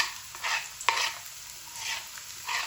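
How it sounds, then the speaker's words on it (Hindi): Onions tipped into frying cumin for dhaba-style aloo bhuna, then stirred; a steady close sizzle is broken by several scraping sweeps of the spoon and one sharp clack. "अब प्याज डाल देंगे"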